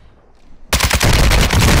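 Rapid automatic gunfire erupts abruptly in a Warzone 2 battle royale match, a loud, dense burst of shots hammering continuously after a quiet moment.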